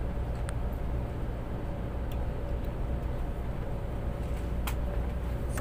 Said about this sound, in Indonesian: Oke, naik kereta.